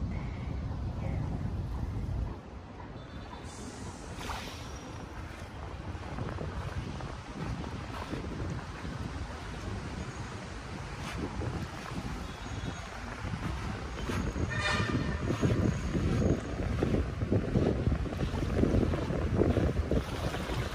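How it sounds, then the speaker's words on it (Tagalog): Strong wind buffets the microphone at sea, a constant roaring rush with water sloshing beneath, growing louder toward the end. "Ay, naku, lumakas na ang hangin."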